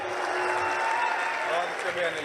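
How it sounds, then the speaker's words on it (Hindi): An audience at a Hindi poetry event in Jaipur claps in a steady wash of applause, with a voice speaking over the clapping throughout. "एक बार आप जोरदार तालियां बजा करके अभिनंदन कर दीजिएगा"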